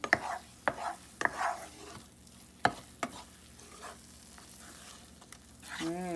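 Kada prasad halwa stirred continuously in a pan, sharp scrapes and knocks of a spoon against the metal at irregular intervals over a low sizzle, close up, with a brief voice near the end.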